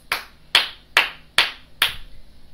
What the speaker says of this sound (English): Give yourselves five claps.